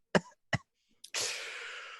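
Two short, sharp coughs from smoke, a small throaty sound, then a long breathy exhale, close and fairly quiet.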